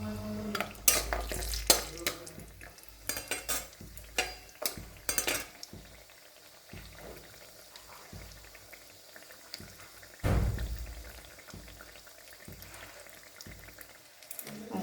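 Lentil dumplings (bori) frying in oil in a wok in a home kitchen, quiet steady sizzle broken by sharp clinks and scrapes of a spatula stirring against the pan, with one louder stir burst midway.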